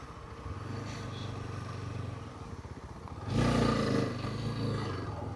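A motorcycle engine drones steadily, then surges louder and rougher as it revs under load climbing an off-road trail in Vagamon, rumbling close by.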